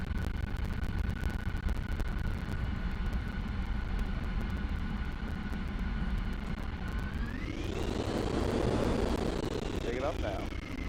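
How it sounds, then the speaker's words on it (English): An aircraft taking off in Microsoft Flight Simulator 2020 during a group flight, a steady engine drone with a whine that rises sharply in pitch as power builds, loud and continuous. "Everybody's clear for takeoff."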